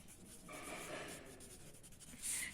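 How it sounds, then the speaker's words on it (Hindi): Chalk or marker writing a sentence on a classroom board during a Hindi grammar lesson, a soft continuous scratchy rubbing with a brief sharper stroke near the end, close and fairly quiet. "माधवी, मैं ये सेंटेंस आपका यहाँ लिख देती हूं,"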